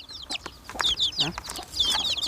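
Several chickens clucking close by, with short, repeated squawks and chatter overlapping in a busy, uneven rhythm.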